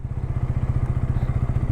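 A motorcycle engine thrums close by at an even idle-to-low-speed pace, its rapid pulsing exhaust beats loud and steady throughout.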